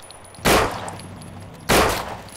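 Two loud, sharp pistol shots in the No More Room In Hell video game, spaced over a second apart, each with a short ringing tail over a quiet background.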